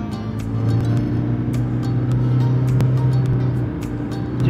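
A Toyota Prius drives along on a test drive, giving a steady, moderately loud hum of engine and road noise with a few faint clicks and knocks from the cabin; no one speaks.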